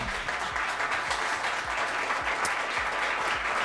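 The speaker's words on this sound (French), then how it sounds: "Je pense qu'on peut les applaudir." Steady applause from an audience, dense and continuous clapping throughout, with no voices over it.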